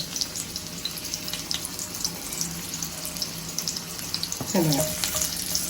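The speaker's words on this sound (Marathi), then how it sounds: "आता तेल तापलंय आपलं आता परत आपण याच्यामध्ये आमसूल घालणार आहोत" Kokum (amsul) drops into hot oil in a home kitchen pan while okra bhaji is being made, sparking a sudden bright crackling sizzle near the end over a steady background hiss.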